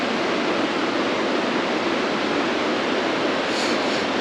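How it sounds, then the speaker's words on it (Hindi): The Beas river rushes loudly beside a road on the way to Kullu, a dense, steady roar of water that fills the scene without pause, with no speech over it. "बहुत तेज़ आवाज़ आ रही है। पानी की जो आवाज़ है"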